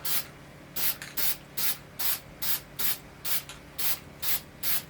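Short bursts of spray paint hiss through a damask stencil in a steady rhythm, about a dozen close, even puffs separated by brief pauses, with no talking.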